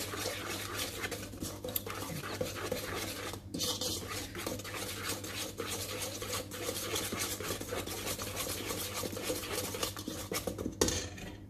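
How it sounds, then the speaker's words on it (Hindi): Butter being mixed into cake batter in a bowl, heard as faint, steady scraping and stirring with occasional utensil clinks against the bowl. "जो 100 ग्राम मैंने बटर रखा हुआ है वो भी चला जाएगा। इसको अच्छी तरह मिक्स करूँगी"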